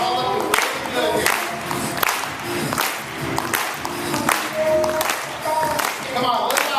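A crowd at a live cooking demonstration applauds, giving sustained clapping and cheering with sharp bursts rising from a continuous wash of audience noise, while voices carry over it.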